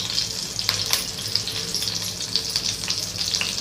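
Cumin and mustard seeds sputter in hot oil in a pan for tamarind rasam, a close, lively sizzle with repeated sharp pops and crackles throughout.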